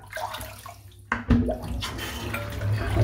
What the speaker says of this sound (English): I'm just going to rinse the soap off of it.